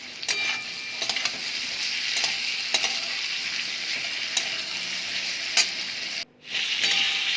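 Chopped tomato with salt being sautéed in a pan, giving a steady, bright sizzle with periodic spatula scrapes, briefly cut off near the end before resuming.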